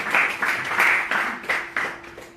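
A small gathering at a Sunday talk in the ISKCON Newcastle temple claps in short, uneven bursts that swell and drop several times, sounding close and informal.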